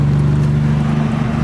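The engine of a 1990 Toyota truck runs rough, idling as a loud, close, low steady drone with a slightly uneven pulsing beat throughout.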